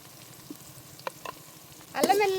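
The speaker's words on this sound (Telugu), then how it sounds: "పేస్ట్ పచ్చివాసన పోయేంత వరకు ఇలాగ నూనెలోనే ఉడకబెడతాను" Ginger garlic paste fries in oil with a quiet, steady sizzle and a few light stirring clicks, then a sudden louder burst of sizzling at the end.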